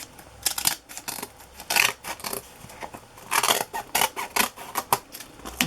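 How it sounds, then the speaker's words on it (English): Large Tim Holtz scissors snip repeatedly while trimming the edges of old 1960s book pages, a close series of crisp cuts in quick bursts. "My big Tim Holtz scissors work nice for this cleaning up process"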